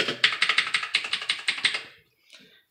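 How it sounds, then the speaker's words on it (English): Quick typing on a mechanical keyboard in a home studio: a close run of about a dozen crisp, clacky keystrokes in a steady rhythm, then a pause and a faint final tap. "We got our mechanical keyboard"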